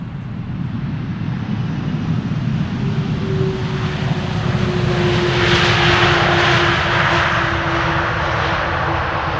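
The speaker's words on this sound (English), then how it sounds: "Let's see when we are following this airplane roll out." An airliner rolls out after landing at Amsterdam Schiphol Airport, its engines giving a loud, continuous roar with a steady whining tone that swells slightly as it passes.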